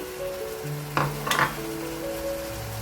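Paprika and ground red chili added to sizzling keema in a pan, a brief burst of crackling as the spices hit the hot oil over a steady low sizzle, with faint stirring clinks.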